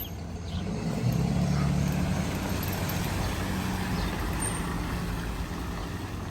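A big transport truck pulling a large trailer arrives, its engine a steady low rumble close by that holds throughout, with a faint hiss of brakes and road noise and no talk.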